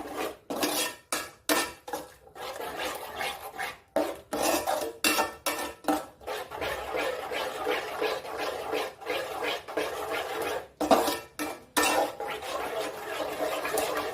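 Beaten egg being stirred in a cooking pan, with repeated scraping and clinking of a utensil against the metal in uneven bursts broken by short pauses, fairly close and with no voices.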